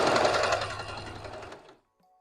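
A sewing machine zigzag-stitches blouse fabric in a short, rapid mechanical burst that runs close and fairly loud, then stops abruptly into near silence.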